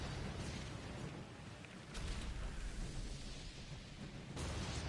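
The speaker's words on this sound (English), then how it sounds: "Torpedoes hit hard now." Torpedo hits exploding in the naval video game Skull and Bones, a dense, loud rumbling blast texture that swells in two heavy bursts near the middle and end over a continuous roar of battle noise.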